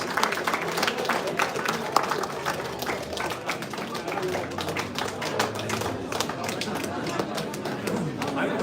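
An audience at the World Championships of Shoe Shining cheers and claps steadily in a dense, continuous wash of applause, with a voice talking over the crowd noise throughout.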